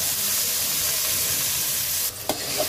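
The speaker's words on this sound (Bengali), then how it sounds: "পেঁয়াজ দিলাম, তেল দিলাম।" Onions fry in oil with a steady, close sizzle that hisses throughout, broken near the end by a few scraping stirs of a utensil against the pan as beef curry preparation begins.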